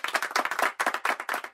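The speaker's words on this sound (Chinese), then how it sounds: "给自己一个掌声" A class of schoolchildren clapping for themselves after sports day, close rhythmic hand claps in quick bursts with brief pauses.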